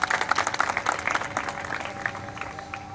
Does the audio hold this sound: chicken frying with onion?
no